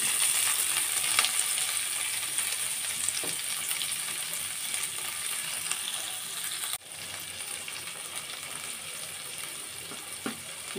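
Chopped onion, garlic and green chili fry in a pan with a steady, close sizzle, broken by a few light stirring clinks.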